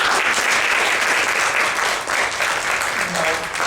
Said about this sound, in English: Yes, a big clap for them.